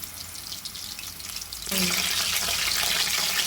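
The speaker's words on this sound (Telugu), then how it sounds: "ఇలా ఒక్కొక్కటి ఇందులో వేసేసుకొని ఫ్రై చేసుకోవాలి ఫ్రెండ్స్" Chicken kofta balls drop one by one into hot oil, and the faint background hiss jumps into a loud, dense bubbling sizzle midway and holds steady to the end.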